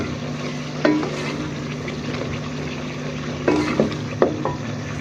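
Steady sizzling of frying in mustard oil for a fish heads dish, a constant low hiss with a few louder clinks and scrapes of stirring in the pan, heard alone.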